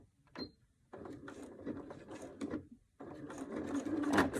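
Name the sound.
sewing machine stitching a zipper pocket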